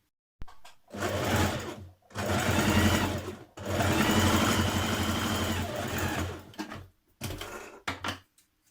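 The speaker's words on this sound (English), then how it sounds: "join your front to your back, match the notches at the side, and stitch these in place" A sewing machine stitches the side seams of an occasion dress in several loud, close bursts of fast rhythmic stitching of varying length, separated by short silent pauses.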